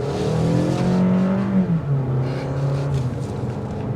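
A 2023 Toyota RAV4 XLE accelerating with an 8-speed transmission, its engine droning steadily from inside the cabin, pitch climbing then easing as it shifts, with road noise underneath throughout.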